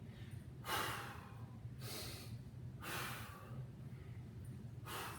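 Heavy, rhythmic exhalations during back extension exercise, about four strong breaths a few seconds apart, close and loud over a low steady background hum.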